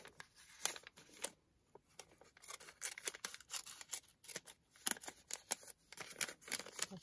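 Scissors snip through a small kraft paper pouch, giving a run of close, crisp cuts and rustles in an irregular rhythm with short pauses between strokes.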